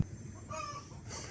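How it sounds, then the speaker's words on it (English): A chicken makes a brief, faint squawking call near a trailer being rewired, heard over low background noise. "Chickens. He's been making that noise all day."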